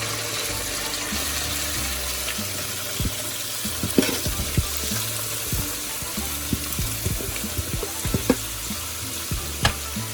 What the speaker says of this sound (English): I'm going to leave all that great fat in the bottom of my pan because that's what I'm going to cook my vegetables in